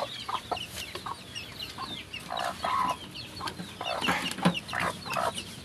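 A mother hen clucks repeatedly in short, low bursts, with other chickens faintly chattering and scratching around in the background.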